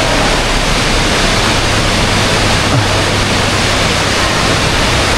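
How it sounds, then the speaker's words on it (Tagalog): A waterfall in Taiwan roars as a steady, loud, broadband wash of rushing water, heard from a passing cable car with no voices over it. "May pakita ko sa inyo mga katropang napakagandang falls."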